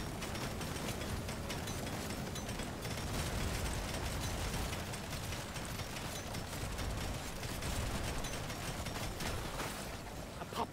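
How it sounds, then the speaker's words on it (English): Plasma turrets with an unstable overclock fire rapidly in Deep Rock Galactic: Survivor, a dense, continuous stream of crackling bursts and mechanical clatter that stays loud and steady throughout, with no talking. "The plasma turrets look so cool with the unstable overclock making them fire so fast."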